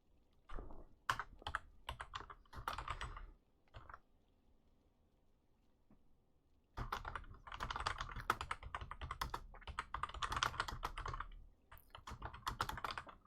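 Rapid bursts of computer keyboard typing, close and crisp, come in two clusters separated by a quiet pause of a few seconds, with dense clacking keystrokes throughout the second half.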